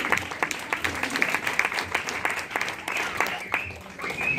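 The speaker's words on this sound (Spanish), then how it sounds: "Un aplauso, ¿sí?" Steady crowd applause, many hands clapping together in a dense, continuous patter that holds at an even level throughout.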